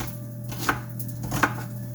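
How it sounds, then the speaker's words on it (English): An onion being diced with a knife on a cutting board, two sharp close chops about three quarters of a second apart over a steady low hum, with no talking. "So I'm just gonna keep dicing my onion up here"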